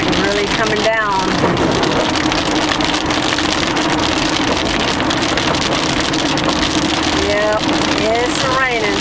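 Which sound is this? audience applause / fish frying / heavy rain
heavy rain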